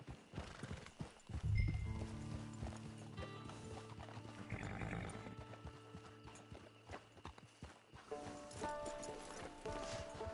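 Horse hooves clip-clop steadily in the video game Red Dead Redemption 2, with a neigh near the start and a low musical score running underneath.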